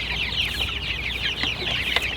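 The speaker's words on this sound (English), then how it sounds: "These are our replacement chicks" Young replacement chicks for egg laying cluck and peep in a busy, continuous chorus, close by and moderately loud, with no talking.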